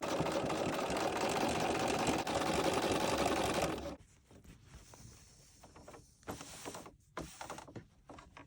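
Sewing machine stitching a leather zipper purse lined with an inside pocket, a loud steady close-up motor whir that suddenly drops away, leaving quieter mechanical clicks and shuffling handling.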